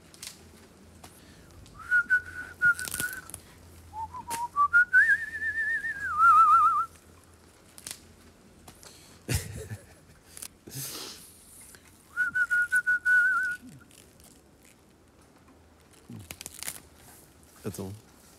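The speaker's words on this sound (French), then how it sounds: "siffle-moi n'importe quoi, s'il te plaît" Someone whistles a short melodic tune in several bursts, close and clear, with rustling, crinkling handling noises and brief pauses between phrases.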